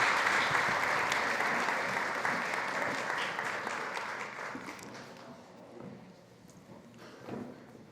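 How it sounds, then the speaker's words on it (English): Applause for panelists at a food summit, a full crowd clapping loudly at first and then gradually thinning and fading into scattered claps and faint murmuring by the end. "Please give these panelists a round of applause"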